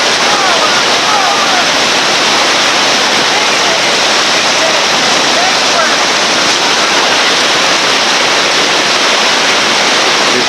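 Loud, continuous roar of white water rapids on a West Virginia river during rafting, a steady broadband rush of churning water that fills the whole clip with no pauses.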